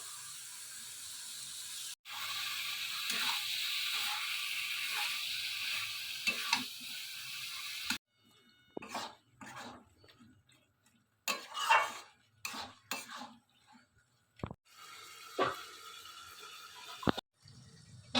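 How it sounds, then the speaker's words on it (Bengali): Mutton fat added to spice masala in a pan, first a steady sizzle for several seconds, then quieter stretches with irregular scrapes, clatters and bursts of frying as the pieces are stirred, close and uneven. "এখন চর্বিটা দিয়ে দেবো, কেটে ধুয়ে রেখেছি"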